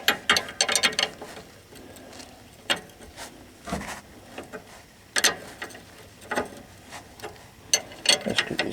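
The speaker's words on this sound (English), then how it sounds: "I'm going to finish taking this nut off" A ratchet wrench works at a shock absorber nut on a 1997 GMC Savana van, giving close, irregular bursts of clicking separated by pauses, with no talk.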